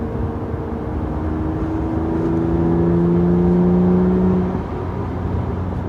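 A BMW E36 M3 drives from inside the car, its engine whirring steadily, then rising as it accelerates before easing off again.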